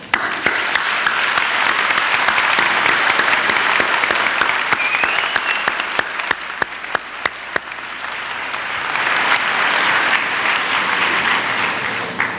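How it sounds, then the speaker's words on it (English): An audience at a 1994 high school commencement in an evening ceremony applauds, a dense, steady wash of clapping that swells and fades over several seconds with a few sharper nearby claps. "they are here before you this evening for us to give them a big round of applause"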